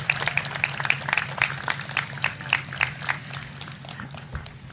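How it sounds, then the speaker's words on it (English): Outdoor audience applause at the Long Beach Motorsports Walk of Fame induction ceremony, with a run of distinct, evenly spaced claps standing out over a low murmur of crowd noise. "Please join me in a final round of applause for the 2026 inductees"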